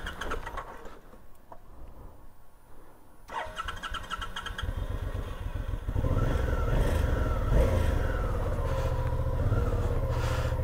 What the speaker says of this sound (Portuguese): A moto demorou pra pegar.